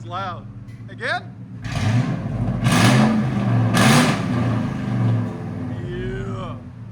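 Loud exhaust on a 1999-2004 Ford F-150 with the 4.6L V8, revved again in a swelling burst that roars for a couple of seconds and then drops back to a burbling idle, voices speaking before and during it.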